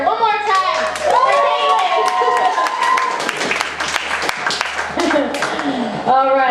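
Audience at an open mic poetry slam applauding and cheering a young poet, steady close clapping with whoops and voices throughout.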